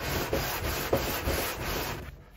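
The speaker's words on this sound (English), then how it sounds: "Let the weight of the head do the work and just push it back and forth. Let the sandpaper do the work." An aluminum cylinder head from a Subaru EJ25 engine is pushed back and forth on sandpaper laid over tile, giving a steady close gritty rubbing with a few soft strokes, with no talking.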